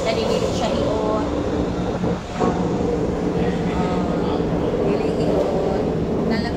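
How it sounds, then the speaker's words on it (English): A train rolls along rails during a city tour, a steady broadband rumble running throughout, heard from on board or close by, with people talking over it. "Look at the train."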